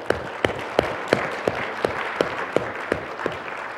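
A seminar audience claps for themselves after a guided meditation session, a small group applauding with a steady rhythmic beat of sharp, evenly spaced claps over softer scattered clapping.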